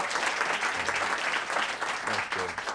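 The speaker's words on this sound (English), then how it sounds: "So give yourselves a round of applause if you had any role at all." Audience applause at a book talk on the green collar economy, a steady dense wash of clapping that holds evenly for a few seconds with no voice over it.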